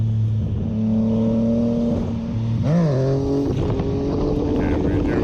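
A motorbike accelerates for a wheelie on a street, its engine tone rising steadily in pitch and then dipping before climbing again, loud and close with a droning, continuous note throughout.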